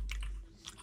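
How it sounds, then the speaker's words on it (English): Loud, close chewing of food with crunchy, wet bites in quick succession, heard alone with no talking. "John, make sure you're not chewing too hard, because they're gonna fucking hear that"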